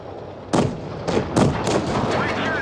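Tank cannon fire in the World of Tanks Blitz video game, several booming shots at uneven intervals over a steady rumbling game backdrop, loud and close.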